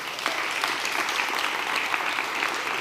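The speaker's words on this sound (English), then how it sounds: "you can clap energetically for all of them" Steady applause from a crowd at a New York City mayoral press announcement, dense and continuous clapping at a moderate distance, with no talk over it.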